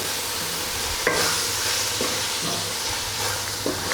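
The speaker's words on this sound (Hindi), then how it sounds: "एक बार अच्छी तरह से हिलाकर मिक्स करेंगे और इसको भूनते जाएंगे।" Tomatoes and spices for aloo keema are stirred and sautéed, giving a continuous frying sizzle broken by periodic knocks and scrapes of the spoon against the pan.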